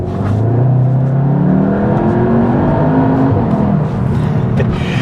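A Cupra Leon 300 with a 2-litre engine accelerates hard and close, its loud note rising steadily in pitch through the revs, with no voices.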